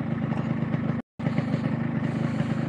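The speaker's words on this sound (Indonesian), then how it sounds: "Ini suara mesinnya wes halus ya." A motorcycle engine idles smoothly with a steady low rumble, briefly cutting out for a split second before resuming.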